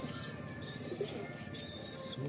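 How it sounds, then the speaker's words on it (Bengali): Pigeons coo softly in a loft of birds kept for sale, the low calls mixed with faint chirps and steady background noise. "কত সুন্দর পায়রা, দেখুন।"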